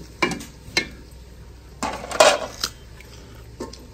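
A spoon stirs potatoes and peas together in a cooking pot, giving irregular metallic scrapes and clanks against the pot with faint sizzling between strikes, close up and without speech.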